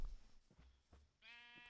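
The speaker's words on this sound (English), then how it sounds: "Want to try to breed a pink sheep again." A sheep bleats in Minecraft, one clear, wavering bleat near the end after a few soft thumps and quiet game sounds, with no talk.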